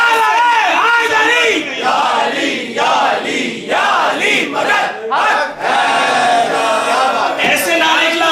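A crowd at a Jashan-e-Maulood-e-Kaba celebration for Imam Ali at a Hussainia in Dublin chants a religious slogan, loud massed voices rising and falling in repeated rhythmic calls and responses.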